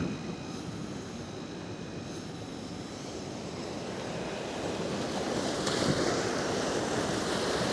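River water pours over a dam at a bathing spot in Bailen, Cavite, making a continuous broad rushing roar that swells slightly louder toward the end, with no talking.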